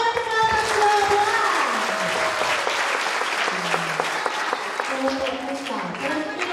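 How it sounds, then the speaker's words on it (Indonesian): A group of campers applauds another group at an Easter youth church camp in Wondama. The clapping is lively and sustained, with sung or shouted voices rising over it and fading as the clapping continues. "Tepuk tangan untuk kelompok"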